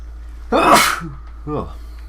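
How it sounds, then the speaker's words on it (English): A single sharp sneeze bursts out nearby, followed a moment later by a brief short vocal sound. "Tried to sneeze away so it wouldn't sound as loud."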